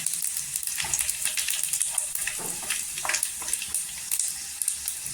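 Garlic fries golden in hot oil for tempering, a close, steady sizzle with quick crackling pops and no talking.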